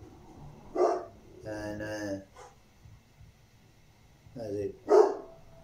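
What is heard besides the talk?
dog barking outside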